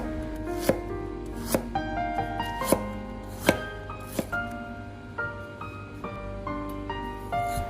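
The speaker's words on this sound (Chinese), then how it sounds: "准备1块去皮的生姜，将生姜切成薄片" A knife slicing a peeled piece of fresh ginger into thin slices on a cutting board, sharp evenly spaced chops close by, no voices.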